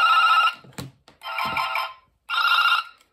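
A Fluke LinkRunner AT 2000 network tester and a cable tracer emit two distinct electronic tones, loud warbling beeps in three bursts separated by short gaps, with a couple of handling clicks and thumps in between and no talking.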